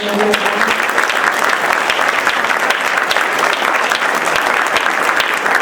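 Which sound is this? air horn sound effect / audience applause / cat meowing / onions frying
audience applause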